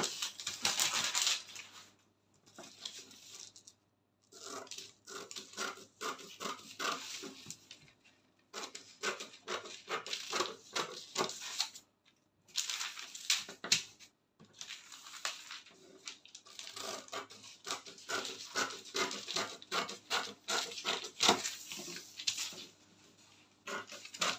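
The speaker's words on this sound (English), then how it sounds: "So I'll go ahead and cut my cape right now." Scissors cut out a fabric cape in repeated bursts of crisp snipping and rustling cloth, separated by short pauses, close and fairly quiet, with no speech.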